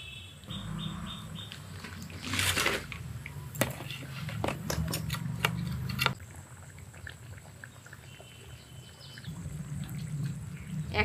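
Liquid is poured into a clay pot of katla fish curry in short splashing bursts with scattered clicks, over a faint outdoor background of insects and birds.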